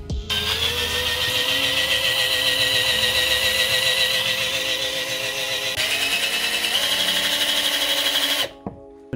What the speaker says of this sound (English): you're gonna have to drill that, these rivets out